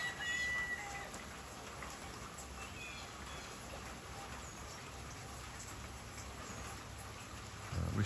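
Free-range backyard hens cluck faintly in the distance against a steady outdoor hiss, with a few short calls standing out.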